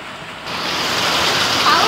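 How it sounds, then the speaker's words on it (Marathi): Heavy rain comes down hard, a broad rushing hiss that builds from quiet to a loud, steady roar within a couple of seconds, close by and with no talk over it. "लई जोरात पाऊस वाढला पण आताच्या आता."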